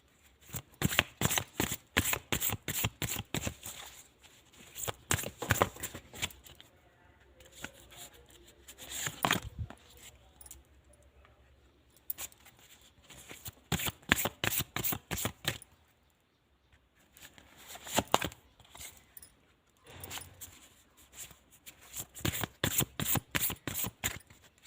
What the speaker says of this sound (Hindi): तो मैं यहाँ पर थोड़ा सा कार्ड सेट करती हूँ